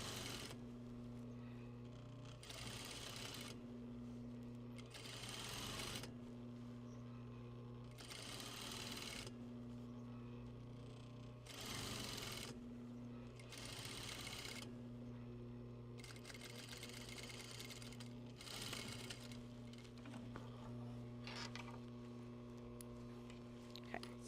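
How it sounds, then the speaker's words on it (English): A sewing machine stitching a curved seam on fabric runs in repeated short bursts of steady mechanical whirring, pausing briefly between each run, fairly quiet against a steady background hum. "Again, I'm going to be supporting the fabric as I go around the curve."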